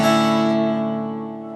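A single strummed guitar chord rings out clearly and sustains, slowly decaying with no other sounds.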